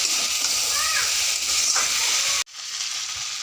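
Potato and eggplant pieces frying in a pan for a vegetarian curry, a steady close sizzle and hiss with faint stirring, cut off abruptly partway and resuming more quietly.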